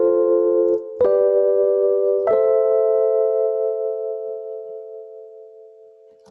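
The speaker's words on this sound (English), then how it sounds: "I'm going to change my piano sound to this Warm Roads patch" Chords played on a Warm Roads electric piano patch ring out clearly, with three struck chords in quick succession, the last one sustaining and fading slowly into near silence.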